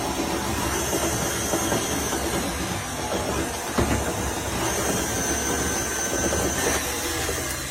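A stand mixer works bread dough for fluffy white bread, with yeast, sugar and baking powder just added, giving off a steady, loud mechanical whir and rumble that runs unbroken throughout, with a few brief knocks and no voices.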